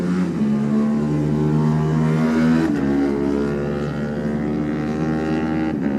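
A Honda racing motorcycle in the Junior Classic TT roars steadily at the Isle of Man course near Bray Hill, its engine pitch climbing, dropping at a gear change, then climbing again.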